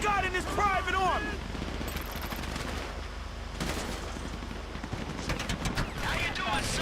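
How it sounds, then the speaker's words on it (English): Bursts of rapid automatic gunfire crackle over a noisy background in Grand Theft Auto V, with a brief voice-like tone at the start. "You hear that gunfire?"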